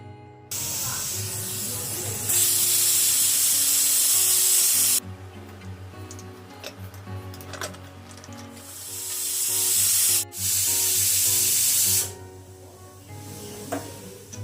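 Running tap water splashing over clay diyas being washed after Diwali, hissing spray bursts that start and stop repeatedly with brief gaps, close and fairly loud, with a little faint talk in the background.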